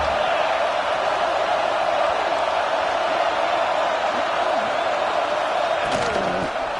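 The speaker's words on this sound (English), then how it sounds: "The Buckeye crowd alive on 3rd down." Ohio State football stadium crowd roaring steadily on a third down, a loud sustained wash of cheering throughout with a brief sharp burst near the end.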